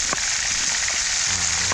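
Food for escabeche fries in a pan with a continuous bright sizzle and a few scattered pops, close and alone.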